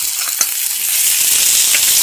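Chopped onion frying in a pan for a matar tamatar curry, giving a loud, close, continuous hiss of sizzling oil with a couple of sharp spits and pops, no voices.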